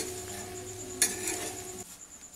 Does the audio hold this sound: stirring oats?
yes